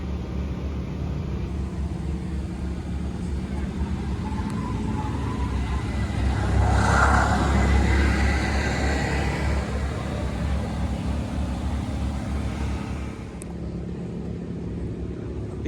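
An Audi S4 engine at a Gridlife track day drones steadily, swelling to a louder rumble midway as the car passes, then easing off, heard from a distance amid ambient track noise.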